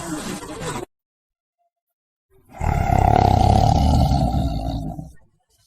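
A tiger roars in one long, loud, rasping sustained call lasting about two and a half seconds after a short burst of other sound and a moment of silence.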